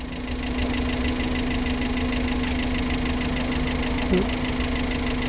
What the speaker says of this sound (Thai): เครื่องยนต์ก็ยังเดินนิ่งและเรียบอยู่